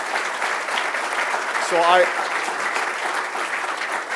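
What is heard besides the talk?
audience applause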